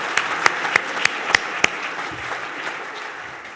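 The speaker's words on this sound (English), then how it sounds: "let's give them a round of applause for that, absolutely" An audience at a university master's hooding ceremony applauds graduating students, opening with a few sharp, distinct claps before settling into a soft, steady patter of clapping that gradually thins out.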